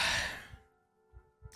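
A voice imitates shallow breathing in: one soft airy inhale that fades out, followed by a few faint low breath puffs, heard close and quiet.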